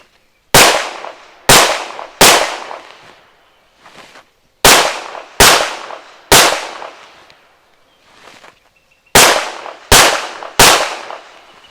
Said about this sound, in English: failure drills from a distance of 7 yards, this time with the Armscore 40 grain jacketed hollow points